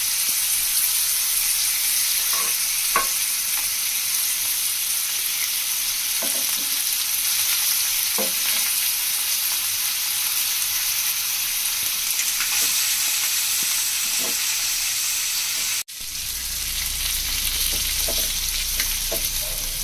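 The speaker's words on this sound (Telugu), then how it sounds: "చేప ముక్క ఇరక్కోకుండా నిదానంగా ఫ్రై చేసుకోవాలి." Fish pieces frying in oil in a pan for a clay-pot fish biryani, a steady close sizzle with faint crackles and pops throughout, briefly interrupted near the end.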